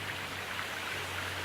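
Rain falls in the video game Gold Rush The Game, a soft, steady hiss of dense drops with a faint low hum beneath, even and unbroken throughout.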